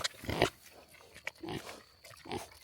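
Pigs grunting out in a fresh pasture of tall grass, several short rough grunts in uneven bursts, fairly close, with no talking.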